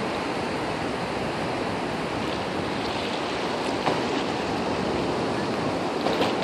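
Steady roar of Pacific Ocean surf washing onto a beach at Seaside, Oregon, a continuous broad hiss with soft swells and a few brief splashes, no voices.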